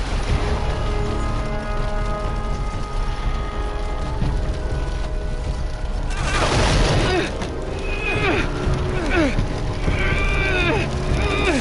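A horse whinnies within a Game of Thrones video game, rising above a dense, steady bed of game music and ambience, with a second burst of calls later on.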